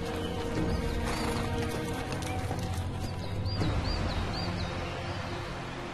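Hooves clip-clop steadily at a walking pace amid outdoor ambience, with faint bird chirps and an occasional snort or whinny nearby.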